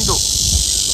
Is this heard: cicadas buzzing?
yes